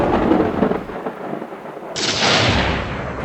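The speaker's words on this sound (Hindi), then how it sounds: "ऐसा लग रहा है कि बाहर बादल गरज रहे हैं।" Thunder from a storm rumbles loud and close, with a deep rolling roar that fades midway and then returns as a rushing swell. Rain hiss fills the upper range in the second half.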